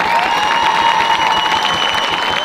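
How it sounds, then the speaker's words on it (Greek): Warm audience applause at a school event, dense continuous clapping from a crowd, fairly loud and steady throughout with no talking over it. "Να δώσουμε ένα θερμό χειροκρότημα."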